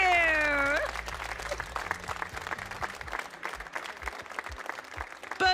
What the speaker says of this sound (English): can we get a huge round of applause to our finalist, Tord Reclam?